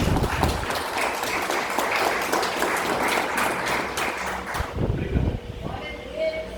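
A church congregation breaks into loud, sustained applause, dense clapping that fades out near the end, leaving a quieter tail.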